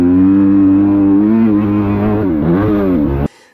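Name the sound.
motorcycle engine revving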